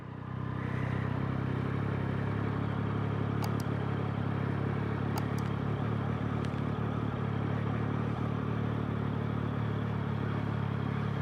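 A 2024 Yamaha MT-09 motorcycle pulls away in first gear, its engine a steady, close, continuous drone at low speed with a faint clatter and no voices over it.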